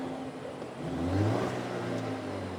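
A Land Rover Defender 110 petrol engine revving: a smooth low idle swells into a rising rev midway, then eases back to a steady hum, close and alone.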